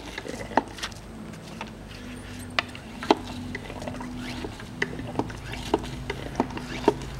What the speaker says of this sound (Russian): теперь завожу туда трубку и накачиваю масло